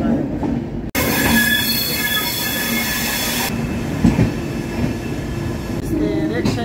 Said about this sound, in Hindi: कोलकाता स्टेशन से हमारी यह ट्रेन का डिपार्चर हो चुका है